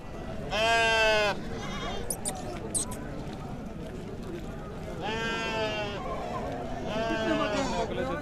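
Goats at a crowded goat market bleat in loud, wavering calls, one long cry up front and two more later, over steady crowd murmur and nearby talk.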